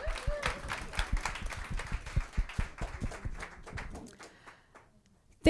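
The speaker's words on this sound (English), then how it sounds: "Let's give this panel a round of applause." A conference audience applauds a panel at a summit, dense clapping that gradually thins and fades out over several seconds, ending in near quiet.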